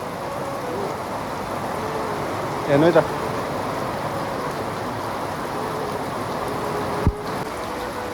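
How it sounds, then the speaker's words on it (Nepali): Heavy rain pours outdoors as a steady, broad hiss that runs unbroken throughout, with a short spoken phrase and a brief knock briefly rising over it. "पानी पनि दर्केको छ तपाईँले देख्न सक्नुहुन्छ"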